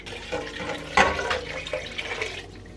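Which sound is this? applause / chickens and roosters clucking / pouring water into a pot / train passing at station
pouring water into a pot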